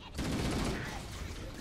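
Gunfire in Halo: Combat Evolved, a dense burst of rapid shots starting abruptly and continuing loud and close for the whole moment.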